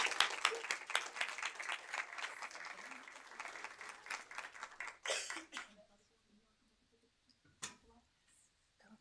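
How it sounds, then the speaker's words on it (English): A crowd at a school board meeting claps enthusiastically for several seconds, then the applause dies away into near silence with a lone clap or knock afterward. "Let's give her a round of applause."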